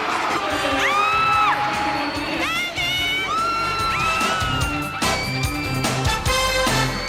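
Stadium crowd whooping and cheering for David Beckham as he performs football tricks, a loud dense roar with shrill rising yells and whistles standing out over the din.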